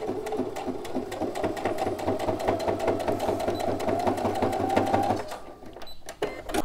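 A domestic sewing machine runs steadily, stitching piping onto a suede phone pouch with folded fabric under the presser foot, in a fast continuous whir that stops near the end, followed by a few faint handling clicks.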